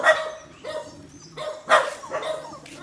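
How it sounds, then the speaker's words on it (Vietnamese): Dogs barking in short, irregular bursts with some yips, moderately distant and of middling loudness, with no one talking over them. "giống như hai con chó đằng kia"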